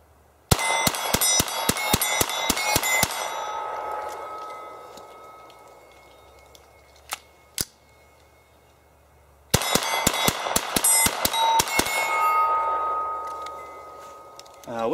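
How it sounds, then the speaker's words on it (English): Ruger Mark III 22/45 pistol fired at an outdoor range with a TRS-25 red dot sight: two quick strings of sharp cracking shots, each followed by ringing echo, with a few isolated clicks in the quiet gap between. "We'll shoot a couple more shots here"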